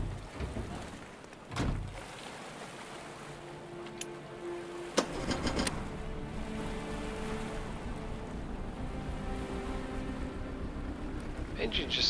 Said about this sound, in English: Engine just seems to rev and rev and rev.